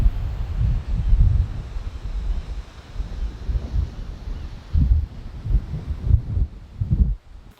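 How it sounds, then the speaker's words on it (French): Strong gusts of wind at a Golden Gate Bridge viewpoint in San Francisco batter the microphone with deep, rumbling buffeting that swells and eases in uneven waves throughout. "il y a beaucoup de vent et il n'y a pas trop de protection"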